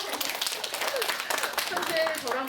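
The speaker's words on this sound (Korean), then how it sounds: "박수 한번 부탁드릴게요" Audience applause at a Korean hospital exercise-therapy session for pulmonary hypertension patients, a brief burst of clapping from a room of people, moderately close, with voices chattering over it.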